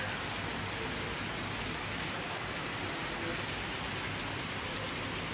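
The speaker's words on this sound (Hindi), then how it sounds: "मज़ा आ रहा है बारिश।" Steady heavy rain falls continuously during a stormy spell at a home, forming a dense, even wash of hiss that stays loud and unbroken throughout, with no voices over it.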